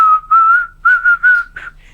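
A single person whistles a short tune with bright, clear sustained notes, breaking into several phrases with brief pauses between them, close and fairly loud with no talking.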